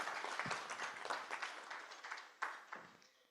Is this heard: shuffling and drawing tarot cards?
no